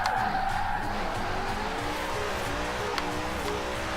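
Car sliding on the handbrake in Forza Horizon 4, a continuous engine drone with sustained tire skid noise, steady and fairly loud for the whole stretch.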